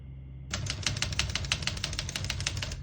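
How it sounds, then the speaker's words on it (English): Rapid, even keystrokes from an Olivetti Lettera 31 vintage portable typewriter start after a brief quiet moment and run steadily, close and crisp, with no voices. "We're going to keep that on single for now and finish typing."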